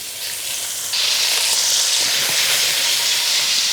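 Lamb pieces browning in hot ghee in a pan, a steady loud sizzle and hiss that rises sharply as more meat goes in, then holds close and continuous with no voice.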